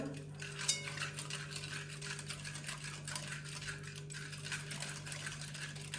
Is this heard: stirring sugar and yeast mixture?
yes